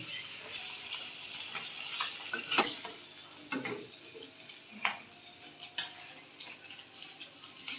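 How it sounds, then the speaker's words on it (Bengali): Hilsa fish frying two at a time in mustard oil in a non-stick pan, with a steady close sizzle and occasional louder spits and crackles. "ননস্টিক না হওয়ার কারণে আমরা দুটা করে ভেজে নিচ্ছি"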